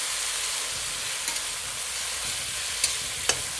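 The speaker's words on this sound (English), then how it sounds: "you add the tomatoes, the chopped tomatoes, and you keep stirring it" Chopped tomatoes frying with ginger, garlic and chilies in a pan for baingan bharta, giving a steady broadband sizzle with a few soft clicks of the stirring spoon and no talk.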